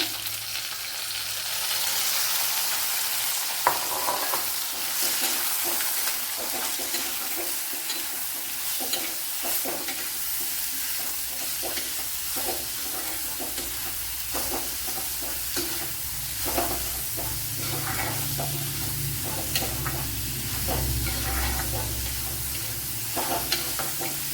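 Sliced onion and snake gourd sizzle steadily in a hot oiled pan with green chillies for a Kerala shrimp-powder curry, with intermittent scrapes and clacks of stirring over a continuous hiss.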